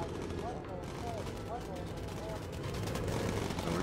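Gunfire rattles against a bomber plane in the Bomber Crew video game, a dense continuous barrage over droning engines and game noise, loud and unbroken throughout.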